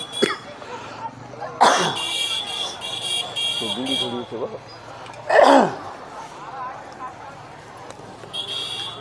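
A man delivering a sermon while ill with a fever coughs a couple of times, two sharp bursts spaced a few seconds apart amid his speaking voice.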